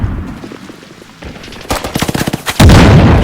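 Machine gun fire in a WWII military-simulation video game, starting as scattered shots, then a rapid rattling burst of close, loud rounds that gives way to a heavy sustained roar at the end.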